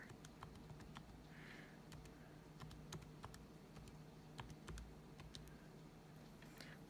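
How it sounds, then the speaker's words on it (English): A handheld calculator being used: a quick run of small plastic key clicks, irregular and close, faint over a low background hum. "Get my handy dandy calculator"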